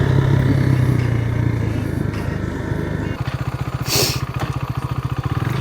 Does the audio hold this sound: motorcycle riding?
yes